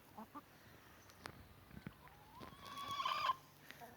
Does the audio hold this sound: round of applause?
no